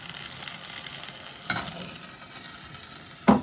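Stock poured into risotto rice in a hot pan, a steady moderate sizzle with a faint burst of liquid hitting the pan and a louder clatter near the end.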